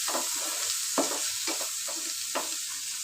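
Tomatoes fry and get stirred in a pan for an egg and potato dish, giving a steady close sizzle broken by several sharp scraping strokes at an irregular rhythm, with no talk.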